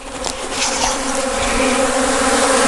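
Dense, steady buzzing of many honeybees close by at a hive entrance, a continuous drone with wing-beat texture and no voices.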